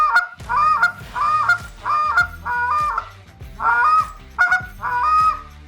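A hand-blown goose call sounds a string of sharp, honking notes paired into double clucks, loud and close, in an uneven rhythmic cadence with short gaps between bursts.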